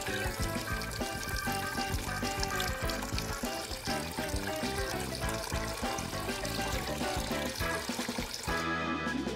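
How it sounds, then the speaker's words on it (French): Water pouring steadily into an aquarium, a close, continuous splashing and gurgling trickle that tapers off near the end, with no voices. "nous avons besoin de remplir l'aquarium"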